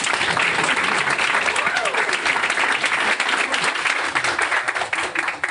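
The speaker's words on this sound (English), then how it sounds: "Let's give them a round of applause first" An audience at an EdTech meetup applauding, dense clapping from a crowd that stays loud and steady, with a voice briefly heard over it.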